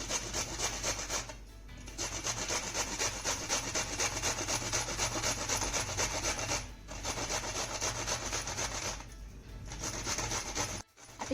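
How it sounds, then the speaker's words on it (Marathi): Eggplants being grated on a large grater produce a steady, close rasping scrape that runs almost continuously, with a few brief pauses between strokes and no voices. "हे बघा, आपण आता ही वांगी किसून घेऊया."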